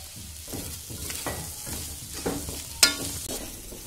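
Beef stir-frying in a pan with onion and coconut pieces, a close sizzle with several stirring scrapes and one sharp clink of a utensil near the end.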